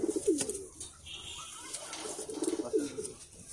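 A pair of pigeons, a teddy-and-golden cross male and a teddy female, coo in soft repeated bursts close by, with a few brief pauses between calls.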